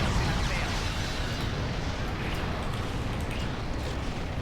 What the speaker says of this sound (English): So that's this explosion thing